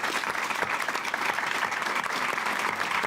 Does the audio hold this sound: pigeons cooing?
no